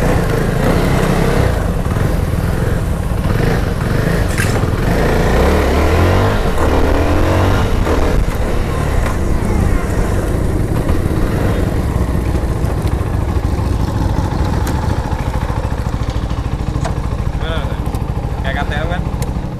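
A CF Moto 250SR motorcycle engine revs hard and steadily throughout a test ride, loud and close with continuous wind noise, while a rider talks over it.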